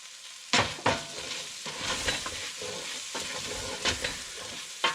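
Sausage gravy with its fat and sprinkled flour is stirred in a pan, repeated scraping strokes of a utensil over a steady sizzle, close and fairly loud with no speech.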